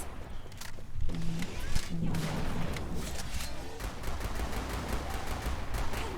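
Killing Floor 2 gameplay on Hell on Earth difficulty, with rapid gunfire and bursts of shots against enemies sounding steadily over a dense background of game noise, while players talk over it.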